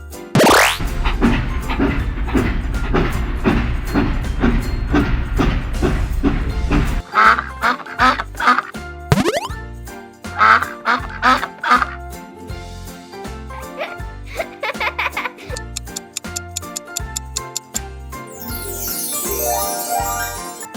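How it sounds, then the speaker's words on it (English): A duck quacks several times in a farm animal song for children, the short quacks set against bouncy, rhythmic backing music. "Duck."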